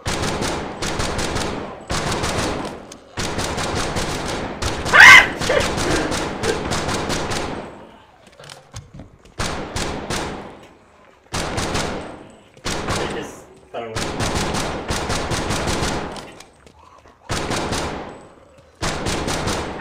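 Heavy automatic fire from big guns in the VR shooter Death Horizon: Reloaded comes in loud, dense bursts separated by short gaps, with a single sharp crack partway through and some game voice mixed underneath.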